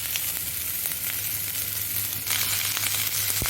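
Beans tip into a hot frying pan of onions that are turning translucent and slightly pink, setting off a steady, loud sizzle that holds throughout, with a brief clink near the end.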